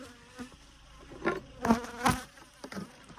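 Bees buzz around a hive, several short close passes and swells of insect droning over a quiet background, with no talk.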